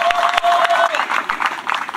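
An audience applauding at a fifth-anniversary celebration for an association, a dense wash of clapping sustained throughout, with a voice speaking over it in places.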